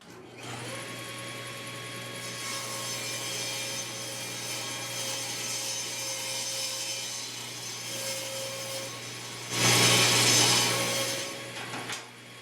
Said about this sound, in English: Now I'm just going to trim the other edge down in the table saw so I have two parallel edges.